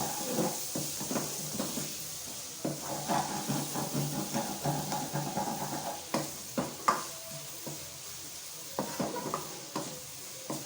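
Grated onions frying in oil until golden brown for a fish curry: a steady sizzle broken by frequent, irregular spatula scrapes and stirs close by, with no one speaking.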